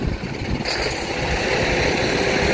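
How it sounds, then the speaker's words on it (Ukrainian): A vehicle hauling barrels drives past near a roadside petrol station, a broad rumbling wash of road and engine noise that swells slightly and holds steady for a couple of seconds, with no talking. "І це яка техніка цікава, поїхала якісь бочки."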